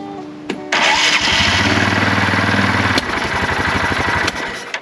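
A neglected Yamaha Rhino ATV engine cranks and catches, then runs roughly and loudly at close range, with an uneven, sputtering note and sharp pops as it backfires before cutting out.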